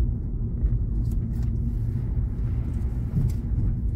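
A 2023 Hyundai HB20S Platinum Plus car on a test drive, with a steady low cabin rumble of engine and road noise and a few faint clicks, without talking.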